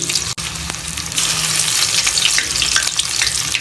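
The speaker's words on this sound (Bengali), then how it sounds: "লেগ পিসগুলোকে ভাজার সময় একটু উল্টে পাল্টেই ভেজে নিতে হবে" Chicken legs frying in a pan of hot oil give a loud, continuous sizzle, steady throughout after a brief dip near the start.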